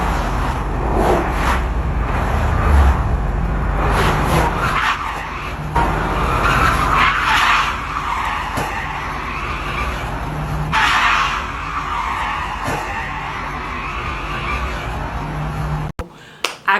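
A car skids on the road, a loud, sustained tire squeal that rises and falls in sweeping bursts before cutting off abruptly near the end.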